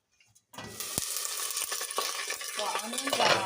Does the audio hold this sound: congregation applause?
no